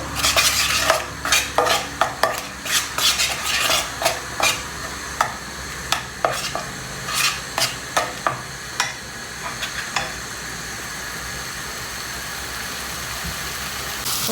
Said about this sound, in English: need to cook onion at least 5 minutes so that it will cook properly